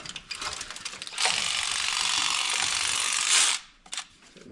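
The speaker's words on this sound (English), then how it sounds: "Love my electric ratchet" An electric ratchet spins bolts loose during a 5.3 engine swap, a sustained loud buzzing whir of about two seconds framed by shorter ratchet bursts and clicks, close up with no talking.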